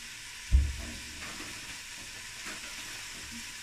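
Tomato dropped into a hot pan for fast-food-style spaghetti, opening with a soft thump and then settling into a quiet, steady sizzle of frying with light stirring, near but faint and without speech.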